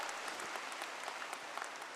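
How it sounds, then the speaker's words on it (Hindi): A large crowd of women at a political gathering in a Patna hall claps, a faint, distant, steady patter of applause throughout. "अगर बुझाता तो ताली जोर से बजता।"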